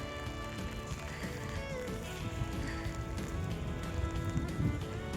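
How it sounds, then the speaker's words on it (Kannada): A sudden heavy downpour at a picnic in Germany, with a steady wash of rain hitting surfaces. Other tonal sounds run through it, and the rain swells slightly toward the end. "ಸಡನ್ನಾಗಿ ಜೋರಾಗಿ ಮಳೆ ಬಂದ್ಬಿಡ್ತು."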